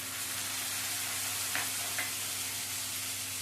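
Tomato paste frying with ginger and garlic gives a steady soft sizzle, with a couple of faint scrapes from stirring, alone and fairly quiet.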